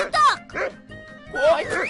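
Dogs in a Kazakh cartoon bark in two quick close bursts of yapping and bow-wows with a short pause between them.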